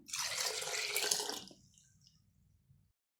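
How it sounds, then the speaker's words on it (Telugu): Water pours into a pot, running and splashing steadily for about a second and a half, then cuts off, leaving faint low rumbling behind. "తగినంత వాటర్ కలిపేద్దాము"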